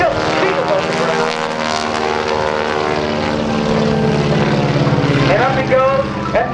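A propeller aerobatic airplane of about 3,000 pounds with a 220-horsepower engine roars steadily while flying a low loop at a Naval Air Station Oceana airshow, close and loud, with an announcer talking over it throughout.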